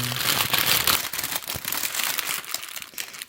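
Plastic wrap being peeled off a potted Christmas cactus, making close, loud crinkling and rustling that fades into softer, scattered crackles toward the end.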